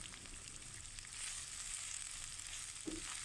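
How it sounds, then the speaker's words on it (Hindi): Soft, steady sizzling of ginger and garlic frying in a hot pan, a faint crackling hiss continuing throughout with one small clink near the end. "10 सेकंड के लिए मैं इसको हल्का सा फ्राई करूँगी"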